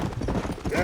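A horse's hooves clip-clop in a quick, continuous rhythm in Red Dead Redemption, close and fairly loud, with a little game noise in the background.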